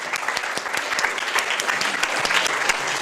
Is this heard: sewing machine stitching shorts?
no